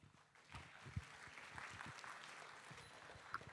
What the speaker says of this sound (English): Let's give a big round of applause to Dr. Hong for making our piece more dramat